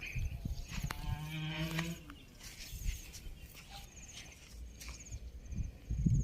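A breeding water buffalo bull, just over two years old, on a buffalo farm gives a low, drawn-out bellow of about a second, set among scattered farmyard noises and outdoor background.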